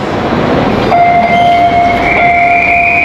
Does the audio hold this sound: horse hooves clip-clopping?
no